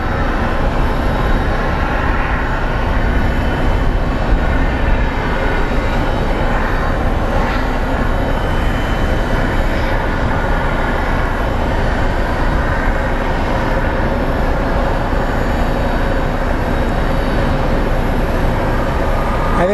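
Small Airbus jet touching down at Phoenix Sky Harbor International Airport, a loud steady engine roar with broadband rushing noise that holds throughout without voices.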